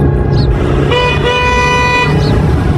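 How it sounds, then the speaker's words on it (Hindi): A vehicle pulls away to a continuous motor drone. A loud sustained horn blast sounds midway, with short chirps on either side and no talking. "गाड़ी चल पड़ी।"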